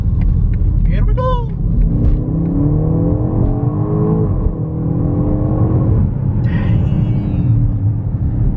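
A 2021 BMW X5M SUV accelerates hard, its engine rising in pitch through rising sweeps with a deep rumbling roar, while people talk over it.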